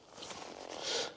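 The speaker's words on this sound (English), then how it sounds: "we have zippers here for the ventilation" A zipper on motorcycle riding gear is drawn shut over a ventilation opening, giving a short, close rasping slide that swells toward the end of about a second.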